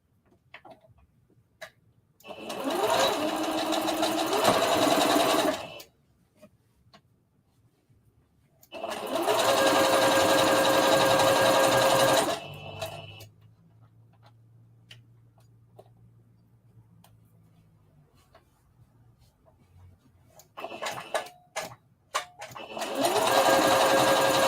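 A sewing machine stitches a circle dress in three loud, steady bursts of a few seconds each, with quiet gaps and faint handling noise between runs.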